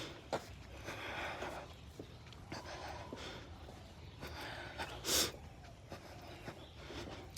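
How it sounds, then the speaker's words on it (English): Heavy, labored breathing from someone walking uphill on a street in Chiang Mai, with rhythmic huffs and gasps close to the mic, a sharp snort-like burst near the end, and faint footsteps and background noise throughout. "Yep, that's me heavy breathing."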